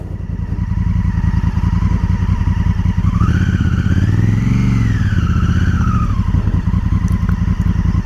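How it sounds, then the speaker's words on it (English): A 2018 Honda CRF1000L Africa Twin Adventure Sports motorcycle engine runs steadily and loudly up close, with a deep throbbing rumble that swells briefly as it revs. "Loving the sound of this engine."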